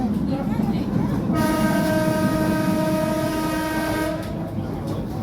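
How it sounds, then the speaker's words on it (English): A long, loud horn blast from an Island Line Class 484 train on the Isle of Wight near Ryde and Smallbrook Junction, held for nearly three seconds over rumbling rail noise, then cut off as the train rolls on. "Rather a loud long horn."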